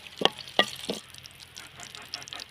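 Cut dried red chillies drop into hot oil for a tempering for an ivy gourd and tomato chutney, giving three sharp crackling pops close by before settling into a faint, quiet sizzle.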